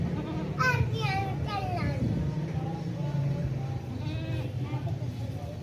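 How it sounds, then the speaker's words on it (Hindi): A large, tall goat of a prized breed bleats several times in a wavering, sheep-like voice, with a steady hum of background noise and other animals underneath throughout. "बहुत ज़बरदस्त बेहतरीन बकरी है, माँ नस्ल वाली बकरी है"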